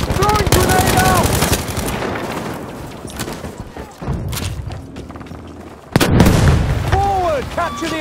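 Battlefield 5 Conquest combat: a heavy grenade blast and bursts of rapid gunfire crack loud and close over a dense battlefield din, with shouted voices mixed in and a sharp new explosion near the end.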